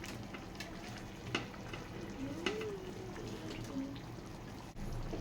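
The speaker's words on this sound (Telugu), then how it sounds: "ఇప్పుడు బాగా కలుపుకోవాలి. బాగా మిక్సింగ్ చేయాలి." Korameenu and bommidai fish curry is stirred in a pan, giving soft, quiet scraping and gentle simmering with a few faint clicks of the spoon, low in level and continuous.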